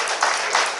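A cabaret audience claps briefly in a dense, even wash of applause that fills the room, close and fairly loud, lasting under a second.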